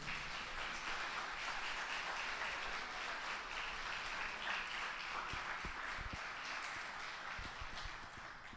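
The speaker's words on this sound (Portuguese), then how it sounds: "Aplauda o Senhor da tua vida." A church congregation applauding during a worship service, a broad sustained roar of clapping from a large crowd that holds steady throughout, with a few low thumps near the end.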